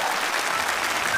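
Audience applause at a Chinese televised talent show, the Spring Festival Gala audition stage, a steady dense clapping that fills the whole short moment without any talking.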